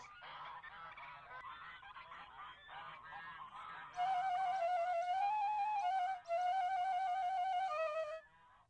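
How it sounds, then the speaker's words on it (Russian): Flock of geese honking, a dense chorus of loud nasal calls that swells midway, with one strong sustained honk line standing out near the listener. "Вымуштрованные Гапоном гуси подчинялись его воле"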